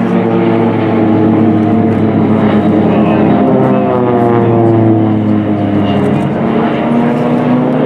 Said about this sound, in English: this is the simulated dogfight of the PC-7 team